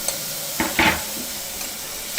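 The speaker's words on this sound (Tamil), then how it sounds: "சீக்கிரம் வதங்கிடும் வெங்காயம் தக்காளி" Onions and tomatoes sautéing in a pan for a double bean curry, a soft steady sizzle broken by a couple of brief stirring scrapes near the middle, close and moderately loud with no talking.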